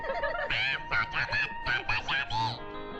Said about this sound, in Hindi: अच्छा, तोता।